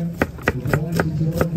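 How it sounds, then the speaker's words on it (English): Knife chopping onion on a board for brown stew at an outdoor field event in torrential rain, five or six crisp, evenly spaced cuts close by. "chopping up some onion just to go with the brown stew"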